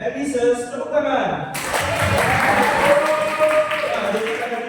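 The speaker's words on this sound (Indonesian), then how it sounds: "Andy says tepuk tangan" Students playing a Simon-says style warm-up game break into a burst of hand clapping with chatter and laughter, lively voices heard over the claps.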